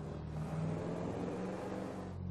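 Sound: Franklin's car engine in video game GTA V

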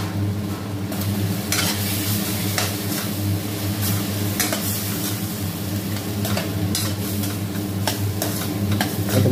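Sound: tomatoes and onions sautéing in a pan

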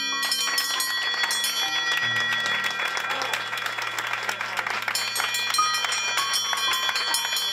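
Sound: cancer patient ringing the bell

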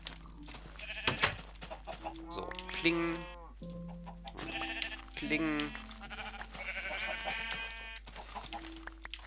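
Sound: sheep bleating in Minecraft video game

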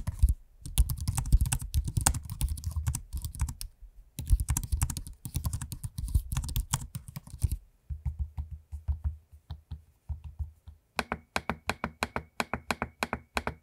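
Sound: typing on laptop keyboard and trackpad clicks

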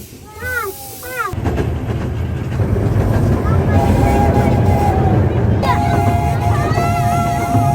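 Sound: steam train running

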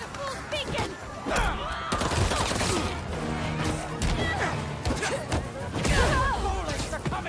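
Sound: gunfire, bullets in Spider-Man video game

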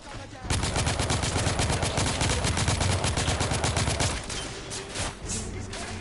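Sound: gunfire in the video game The Order 1886

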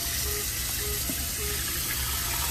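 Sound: tap running cold water onto salt mackerel

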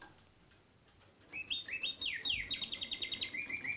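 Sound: mechanical singing bird in cage

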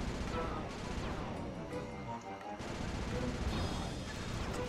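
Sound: hunter seeker bombs exploding in Sly 2 video game

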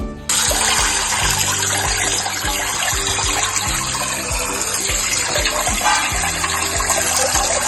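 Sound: washing raw chicken with salt under running water

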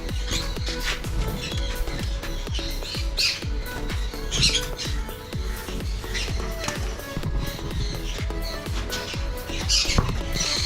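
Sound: birds squawking in a home bird collection

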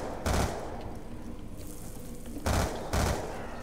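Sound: shotgun gunfire in video game Black Ops 2 Zombies

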